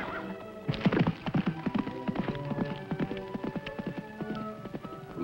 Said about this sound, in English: From the sound of those hoofbeats